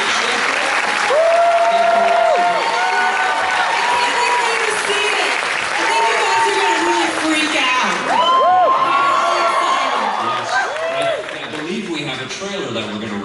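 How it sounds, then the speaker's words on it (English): A studio audience on a television show set bursts into sustained applause, with whoops and cheers rising over the steady clapping for the whole stretch. "Let's give it another round of applause"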